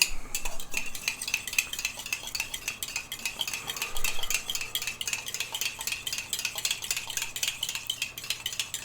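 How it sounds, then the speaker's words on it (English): An egg is beaten briskly with a whisk or fork in a bowl, giving fast, even, close-up ticking strokes that repeat without pause for several seconds, with no talking. "I'm just going to whisk an egg up."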